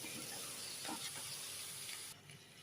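Chicken pieces fry and are mixed in a pan for a country-style chicken curry, giving a loud, close sizzling hiss with stirring scrapes that drops away abruptly near the end.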